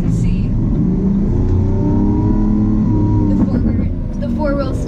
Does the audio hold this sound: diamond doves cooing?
no